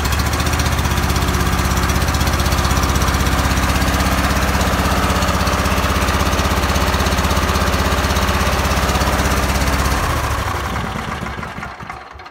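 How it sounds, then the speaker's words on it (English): Briggs and Stratton twin-cylinder lawn tractor engine running rough with a bad ignition coil, a loud, steady, close droning rumble for about ten seconds before it winds down and fades. "I'm gonna sit on a tractor and I'm gonna start it, and it's gonna sound funny to me"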